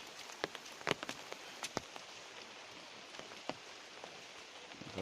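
Steady rain pattering on a surface during Laxmi Puja, with scattered louder drops landing close by and no voices.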